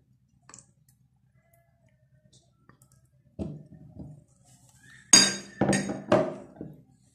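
Strawberry puree, condensed milk and cream going into a jug one after another, heard as a few soft glassy clinks and thuds followed by three louder clattering bursts near the end, with no talking.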